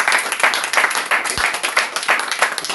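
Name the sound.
applause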